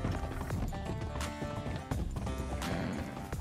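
Horses' hooves clop in Red Dead Redemption 2 while wild horses are led in a group, a steady close run of hoofbeats with a faint whinny.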